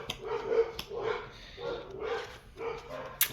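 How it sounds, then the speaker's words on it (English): Several dogs barking outside in a driveway, heard at a moderate distance in repeated bursts of a few barks each, with short pauses between the bursts. "You can hear my dogs barking out the driveway."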